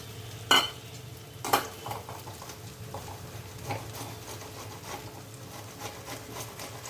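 Food frying in a pan with tomato added, stirred with a utensil: a low steady sizzle broken by a few sharp clacks and scrapes of the spoon against the pan.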